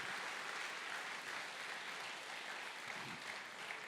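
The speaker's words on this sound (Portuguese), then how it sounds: "Vamos aplaudir o Senhor por isso?" A church congregation applauds together during an evening service, a dense, steady wash of clapping that lasts the whole time with no talking over it.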